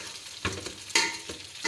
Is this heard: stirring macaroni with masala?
yes